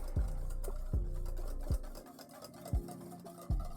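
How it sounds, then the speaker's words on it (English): A whisk beats honey into a miso glaze in a bowl, giving a steady series of soft, regular knocks and scrapes close by, fairly quiet, with no talk. "We're gonna whisk this together the best we can."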